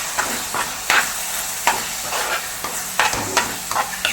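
A spoon stirs chilli and coriander powder into a frying fish masala, giving repeated scraping strokes every half second or so over a low background sizzle, close and alone without speech.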